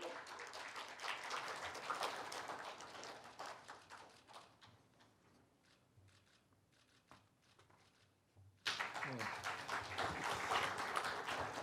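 Applause from the audience at a Korean academic conference for the Uiyeoldan centenary rattles through a hall, tapering to a thin patter midway, then surging back loud and dense for the final few seconds.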